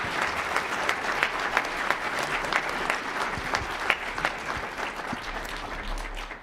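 An audience at a Martin Luther King Jr. birthday celebration gives a steady round of applause, with individual sharp claps standing out from the dense, moderately loud clapping.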